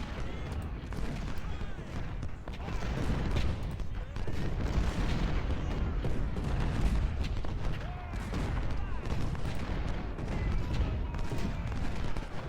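Civil War battle gunfire in the Ultimate General strategy game, a sustained rumble of musket volleys and artillery booms rolling in the distance, layered dense and steady throughout with a voice talking over it.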